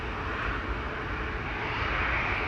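A KLM Boeing 737-800 airliner bound for Berlin at Amsterdam Schiphol gives off a steady, moderately loud engine rumble with a broad hiss, heard briefly with no break.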